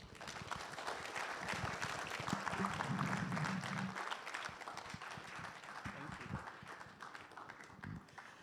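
Audience applause at the Ghana Statistical Service launch of its Governance Series Report Wave 2, a steady wash of many hands clapping that swells in the middle and carries on throughout the hall.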